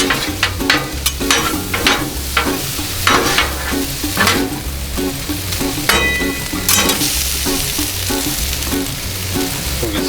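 Pre-cooked shrimp sizzle loudly on a Blackstone griddle with coarse kosher salt, steady frying hiss broken by repeated sharp spatula scrapes and clacks, close and continuous with no talking.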